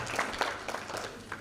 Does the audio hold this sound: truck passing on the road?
no